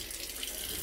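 Cold tap water running into a sink over frozen shrimp to defrost them, a steady close splashing stream, brief and alone without talk.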